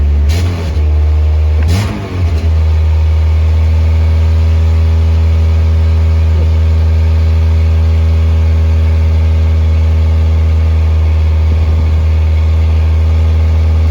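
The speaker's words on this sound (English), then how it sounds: "That seems right, hanging on high idle that long." A 1986 Pontiac Fiero engine after a tune-up, holding a loud, steady high idle with a strong low hum, a couple of brief revs at the start, then an even drone.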